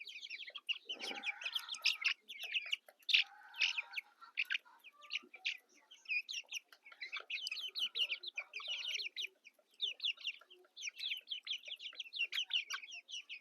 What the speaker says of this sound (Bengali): এটা হলো দেশি মুরগির বাচ্চা।